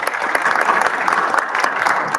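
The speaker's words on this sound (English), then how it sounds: "y'all clap it up" A crowd claps together at an event honoring Mr. McGee, a steady, dense wash of applause with no pauses that sounds close and loud.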